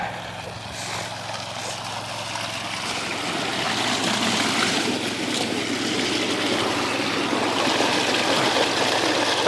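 A gold dredge engine runs at throttle near a stream, a steady motor drone that rises a little and holds over rushing water, with no talking.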